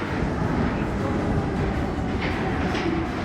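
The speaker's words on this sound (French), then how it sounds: "Il réatterrit dans le métro." Subway metro train rumbling steadily inside a tunnel, a loud continuous broadband roar that fills the whole stretch, with faint squeals rising briefly near the end.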